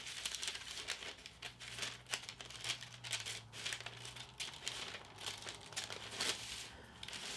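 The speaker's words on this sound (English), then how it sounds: "I'm going to go ahead and just cut out this entire project square" Paper being cut out for a Halloween wall art craft square, a quiet, close run of crisp crinkling and snipping rustles repeating irregularly throughout, with no talking.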